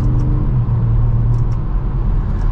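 A car engine accelerating gently with a steady, moderately loud low rumble and a fairly subdued, toned-down exhaust note, continuous throughout with no voices.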